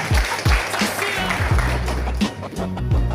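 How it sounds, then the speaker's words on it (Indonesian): A crowd claps loudly and continuously, with scattered voices mixed into the steady applause. "Dipersilakan beri tepuk tangan yang meriah"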